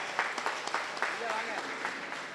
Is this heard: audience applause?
yes